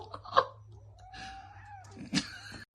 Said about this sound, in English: Yeah, keep meowing.